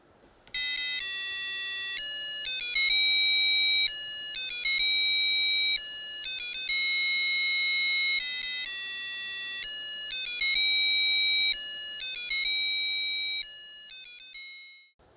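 A buzzer on a MIPSfpga FPGA board plays a programmed song, a loud, pure electronic beeping melody of steady square-like tones stepping between pitches for about fifteen seconds.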